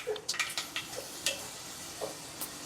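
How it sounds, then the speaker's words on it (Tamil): Fenugreek seeds crackle in hot oil in a kadai, a soft sizzle broken by scattered small pops and spits, fairly quiet and close. "இப்போ எண்ணெய் சூடானதும் எடுத்து வச்சிருக்க வெந்தயத்தை சேர்த்துக்கலாம்."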